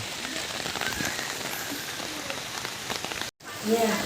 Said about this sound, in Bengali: বৃষ্টি হচ্ছে খুব ওয়েদার খুব খারাপ